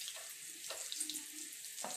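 Prawns fry in a pan as a crispy golden prawn fry, giving a steady close hiss and light crackle that runs alone through the whole stretch, with a few brief louder bursts.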